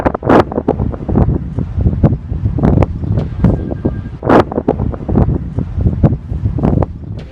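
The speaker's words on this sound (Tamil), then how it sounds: "அதுபோன்ற ஒரு மணல் புயல் துபாய் நாட்டில் தற்போது வீசி உள்ளது." A sandstorm in Dubai drives heavy wind gusts that roar and buffet the microphone in loud, uneven surges, with no talking.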